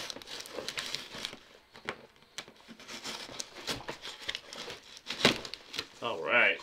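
A heavily taped cardboard package box is pulled open: crinkling, crackling tape and cardboard rustle in uneven bursts at close range, with a sharp tearing rip near the end, while someone talks.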